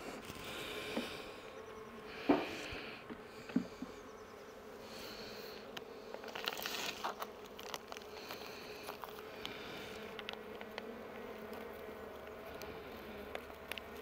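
Honeybees buzz steadily around a hive as a beekeeper handles them, a dense, close insect hum with occasional louder passes and light knocks, no voices.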